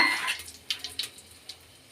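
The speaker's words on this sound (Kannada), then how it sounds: "ಈಗ ಎಣ್ಣೆ ಕಾಯ್ದಿದೆ ಸಾಸಿವೆ ಹಾಕ್ಕೊಳ್ಳೋಣ" Mustard seeds drop into hot cooking oil in a pot on the stove, a brief splash followed by a few light crackling pops, close and fairly quiet.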